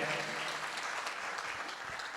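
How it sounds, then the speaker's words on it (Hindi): Audience at an outdoor Hindi poetry gathering (kavi sammelan) at a festival in Hapur breaks into applause, a dense steady patter of many hands, fairly faint and distant. "एक बार तालियों से उनको पुनः जो है,"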